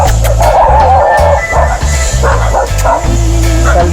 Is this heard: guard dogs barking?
yes